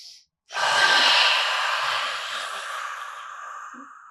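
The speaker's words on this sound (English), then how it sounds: "Take a full breath in and release it." One deep breath during a breathing exercise: a brief intake, then a long, close, breathy exhale that slowly fades, with no talk.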